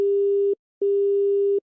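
A phone line's busy tone after the call is hung up: two long, steady electronic beeps separated by a short silence, clear and loud with no talk.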